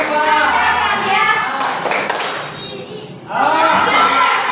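Children chant and clap in rhythm in a classroom, doing the Indonesian 'tepuk pelajar' student clapping routine, with voices and claps loud and overlapping, a short pause, then the chanting picks up again.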